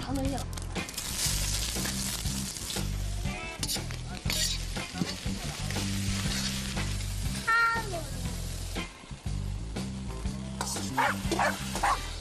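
Greens stir-fried in a wok in Meishan, the local plant known as Yuanxiu cai, sizzling steadily throughout while loud background music with a prominent beat plays over it.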